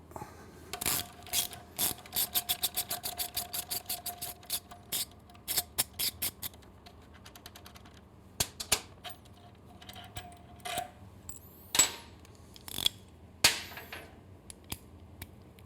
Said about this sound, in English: I'm going to put a 12mm wrench in the back, 12mm socket.